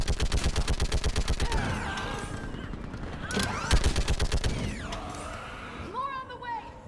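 Heavy machine gun fire in Mass Effect rattles in a fast, steady stream of loud shots, pausing and resuming amid battle noise, with voices talking over it.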